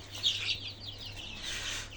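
Incubator-hatched native chicken chicks of mixed sizes chirp together in a steady high twittering, several peeps overlapping with a faint low hum beneath, close by and without voices.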